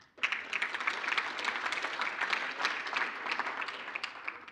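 An audience applauds award winners at a conversation event, a dense, steady burst of many hands clapping from a large crowd that starts abruptly and continues throughout.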